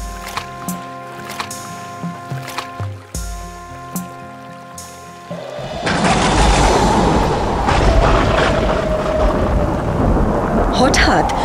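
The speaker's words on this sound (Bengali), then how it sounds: "হঠাৎ নদীতে প্রচন্ড ঝড় ওঠে" A cartoon storm breaks over a river: deep thunder booms sound over dramatic music, then heavy, steady rain and rushing wind take over for the rest of the scene.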